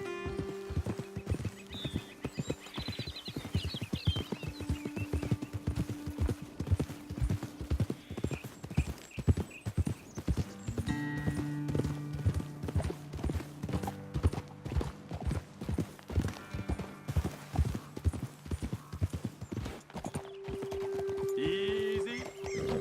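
Horses trotting in the Western video game Red Dead Redemption 2, a steady close clip-clop of hooves on dirt with occasional snorts and a whinny, under a low music bed.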